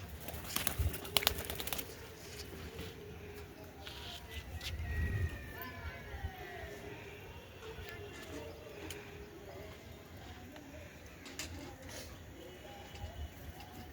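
Pigeons coo softly in a low, murmuring pattern around a loft at water time, with faint mechanical clicks and rustling nearby and some background voices.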